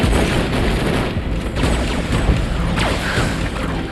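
Robot guns fire in the mech combat game War Robots, a dense stretch of booming shots and clanking mechanical noise, loud and continuous with a few sharper bangs and no talk.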